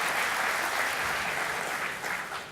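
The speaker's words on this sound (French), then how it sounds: "On peut l'applaudir très fort." A crowd applauds steadily, a dense wash of clapping that holds level before tapering slightly at the end.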